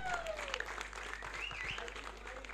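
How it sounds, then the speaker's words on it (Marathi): A crowd claps for the man of the series at a village cricket tournament prize ceremony, giving a dense, steady round of applause with faint voices underneath. "एकदा जोरदार टाळ्या"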